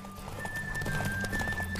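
Rapid hoofbeats of a galloping horse in The Witcher 3: Wild Hunt pound in a quick rhythm, close and loud, with a brief whinny mixed in.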